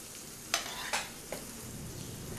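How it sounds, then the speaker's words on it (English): Veal filet sizzling in a pan with thyme while hot butter is spooned over it, a steady frying hiss broken by a few sharp spattering bursts as each baste lands. "Merk fries the veal filet in thyme and bastes it several times with hot butter"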